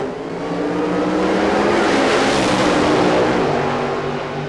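A drag racing car roars down an NHRA drag strip at the 1993 Western Auto Sports Nationals in Topeka. The loud, sustained engine blast swells toward the middle of the run and then begins to fade.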